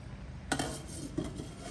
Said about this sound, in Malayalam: അപ്പൊ പ്രിപ്പയർ ചെയ്ത കോക്കനട്ട് മിൽക്ക് 1/2 ഞങ്ങൾ ഈ റൈസിലോട്ട് ഒഴിച്ചു കൊടുക്കുന്നുണ്ട്